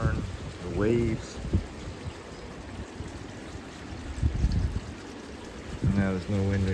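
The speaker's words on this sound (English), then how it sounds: "Now there's no wind right now, but it's starting to rain really hard." Heavy rain during a hurricane on Cape Island, Nova Scotia, falling as a steady, moderately loud hiss and patter under intermittent speech.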